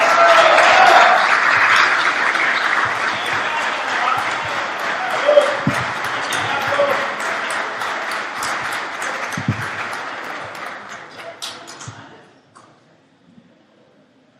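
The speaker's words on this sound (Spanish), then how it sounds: "Un aplauso para Nelson" A church congregation applauds Nelson during a plenary session, dense clapping close and loud at first, gradually thinning and fading out over about twelve seconds before near silence.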